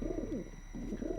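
Pigeons coo in the Deus Ex video game, a low, soft, warbling burr that rises twice with a short gap between, clear and fairly close with no talking over it.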